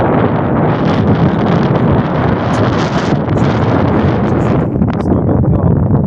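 Strong wind buffets and roars steadily across a single-handed sailboat heading into a headwind, loud and constant for the whole stretch with no talk.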